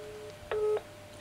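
On a Sony Xperia Z1 restored after water damage, a soft dial tone is followed by a single short telephone keypad beep through the loudspeaker, faint and alone.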